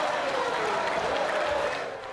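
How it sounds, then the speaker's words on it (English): Applause fills the Australian parliament chamber after the carbon tax vote, a steady dense wash of clapping from many hands that tapers off slightly at the end. "There was applause."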